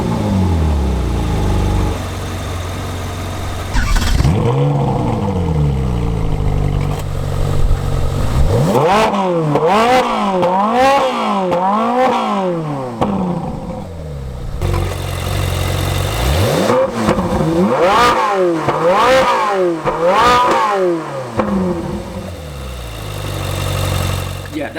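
A naturally aspirated 4.5-liter V8 in a Ferrari 458 Spider revs repeatedly, close and loud, in two bursts of rising and falling blips separated by steadier idle stretches.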